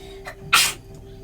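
A single sharp, loud sneeze bursts out close to the microphone after a brief intake of breath, with quiet room tone around it.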